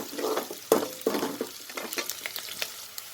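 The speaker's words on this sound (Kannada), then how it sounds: "ಆನಿಯನ್ ತೊಗೊಂಡಿದ್ದೀನಿ, ಮೀಡಿಯಮ್ ಸೈಜಿಂದು. ಸ್ವಲ್ಪ ಫ್ರೈ ಮಾಡ್ಕೊಳ್ಳೋಣ." Two medium-sized onions sizzle in a pan for shavige bhath, Mysore style, with a spatula scraping and stirring them in short close strokes over a soft frying hiss.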